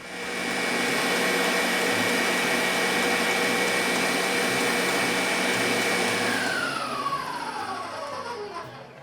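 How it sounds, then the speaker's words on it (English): An electric mixer beats a cup of chilled whipping cream, a loud steady whirring drone that runs without pause and shifts slightly in pitch near the end as the cream thickens. "So first I'm gonna beat a cup of chilled whipping cream"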